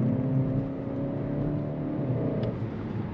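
A 2022 Skoda Octavia RS hybrid estate, 245 hp, accelerating with a steady, mid-pitched engine and motor hum heard from inside the cabin, rising evenly over a few seconds with no talking.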